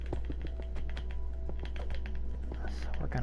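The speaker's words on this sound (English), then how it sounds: "I'm sure at that point you just hear spastic clicking" Computer keyboard and mouse clicking, rapid irregular light taps and clicks, fairly quiet under a constant hum and background sounds.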